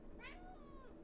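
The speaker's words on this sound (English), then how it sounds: "my cat is being so loud" A house cat lets out a single drawn-out meow indoors, close by and clear against a quiet background.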